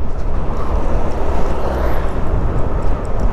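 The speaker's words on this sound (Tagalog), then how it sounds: "Tulad ng mga helicopter." A loud, close aircraft roar, a helicopter passing overhead near a park at the Clark Freeport Zone, a dense low rumble sustained throughout with no talk.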